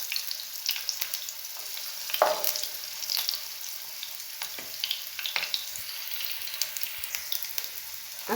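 Small onions drop into lightly heated oil for a Tamil mint chutney, giving a soft, close frying sizzle with scattered crackles and a few sharper splatters over a quiet background.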